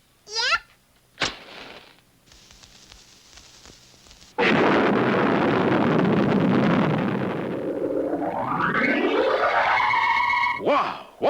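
A cartoon firecracker goes off with a sudden loud burst that roars on for several seconds, then gives way to rising whistling tones, with brief cartoon sound effects before and after.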